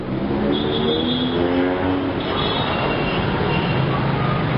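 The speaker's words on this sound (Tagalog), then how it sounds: "Yan, traffic." Steady, dense city traffic in Manila with jeepneys heading toward Quiapo, engines rumbling and droning continuously, close and loud, a broad roar without pauses.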